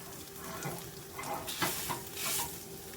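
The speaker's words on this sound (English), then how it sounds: "I'm sorry for the noise of the banging of the pan." Poke salad greens sizzle quietly in a pan while a utensil scrapes and knocks against the metal a few times.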